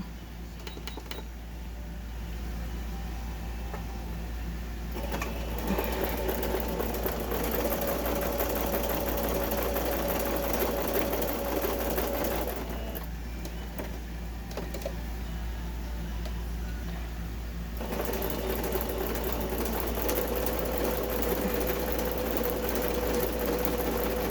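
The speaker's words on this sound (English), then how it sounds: "I'm just doing a zigzag stitch all the way around" A sewing machine runs a zigzag stitch around the edge of an envelope made from book pages, a steady mechanical whir with short pauses between bursts of stitching, close and alone.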